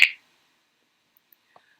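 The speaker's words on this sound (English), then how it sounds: "the best one I could find to imitate an egg cracking on the side of a bowl is going to be this finger snap" A single sharp finger snap from a Scratch library sound effect, standing in for an egg cracking on a bowl's edge, followed by silence with a few faint ticks.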